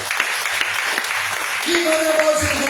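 A congregation claps along in a church during a sermon, a steady moderate patter under murmured voices, with a brief sustained tone near the end.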